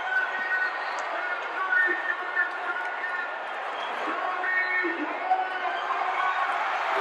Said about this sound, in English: This tremendous crowd at the Sam Houston Coliseum on their feet, roaring